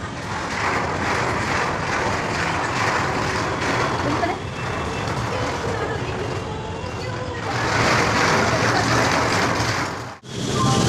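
A river ferry launch leaving the BBD Bag ferry ghat in Kolkata gives off a steady, loud engine drone with broad rushing wash and wind noise, constant throughout and dipping briefly near the end.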